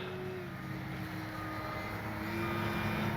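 A small E-flite Sportix electric RC airplane with a 1.1 m wingspan flies past at speed. Its steady propeller whine holds at a constant pitch and swells slightly louder toward the end, heard alone from a distance.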